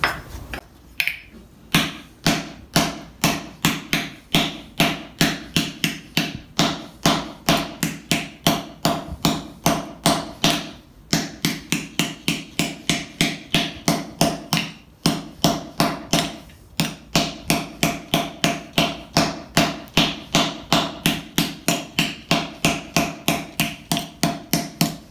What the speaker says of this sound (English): So I'm going to use the peen part on this hammer here